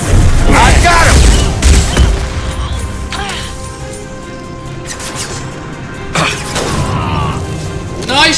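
Gunfire in the sci-fi shooter Mass Effect 2 booms and cracks in loud bursts during a firefight, with heavy impacts at the start and end and quieter rattling in between, mixed with indistinct game voices.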